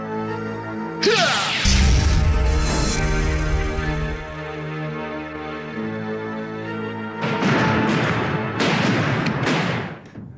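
A loud, booming blast with a heavy rumbling low end, followed by sustained noisy roaring, then another burst of crashing noise near the end.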